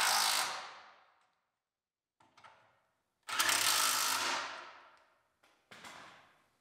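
A ratchet bolts a power steering cooler into a Mustang's engine bay, in separate bursts of rapid clicking that ring out and fade between pauses, close and crisp, with no speech.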